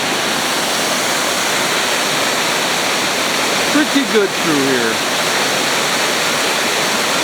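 A raging waterfall roars in a dense, unbroken rush that fills the scene. Someone speaks briefly over the steady torrent.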